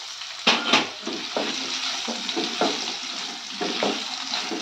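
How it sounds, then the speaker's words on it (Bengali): Potato pieces fry in hot oil with five-spice seasoning in a pan. A steady, close sizzle runs throughout, with soft scraping knocks as the potatoes are stirred. "আলুটা একটু ভালো করে ভাজবো"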